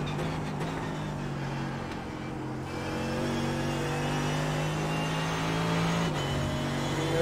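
A Mercedes GT3 race car engine at Monza in iRacing, a sustained high-pitched engine drone with steady harmonic tones that shift slightly as the car holds speed, loud and continuous without talking.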